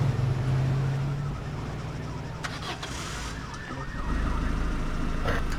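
A police car siren wails in the video game Arma 3, Altis Life mode, over a constant roar of vehicle engine and road noise, the siren rising and falling at moderate loudness.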